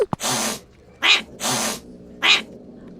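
A cat gives four loud, separate cries, some breathy and hissing, each standing alone with short pauses between them.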